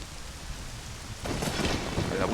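Rain from a thunderstorm in the video game Zelda Ocarina of Time, a steady hiss that swells abruptly into a louder, denser downpour with rumbling thunder partway through, with no talking.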